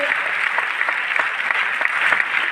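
Steady, dense applause from a crowd, continuous clapping throughout without pause.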